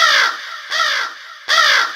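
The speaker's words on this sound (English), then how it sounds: "After a little while, Noah sent out a raven" A raven caws three times as a sound effect in a Noah's Ark story, each loud, harsh call evenly spaced and heard alone with no voices.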